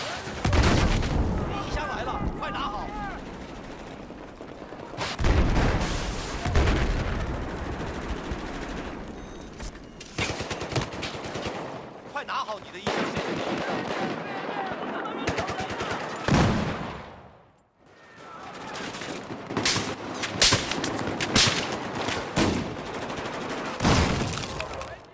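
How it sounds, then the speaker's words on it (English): Battlefield 4 combat roars with heavy bursts of gunfire, machine-gun fusillades and booming explosions in loud, dense waves, broken by a brief near-silent gap before the barrage resumes. "It's a bunch of awesome explosions."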